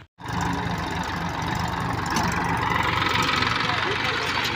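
A tractor engine runs steadily while manure is unloaded onto a maize field, a continuous mid-pitched idling drone with slight knocking vibration, close and constant after a brief silent start.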